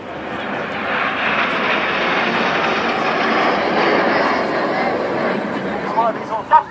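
Red Arrows jets flying in formation at the Swansea Airshow give a broad, steady roar that holds at a loud level throughout, with a few sharper bursts near the end.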